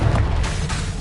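Fire-blast spell explosion from Confringo in Hogwarts Legacy, a deep booming blast that fills the clip with a dense, continuous low rumble, loud and close.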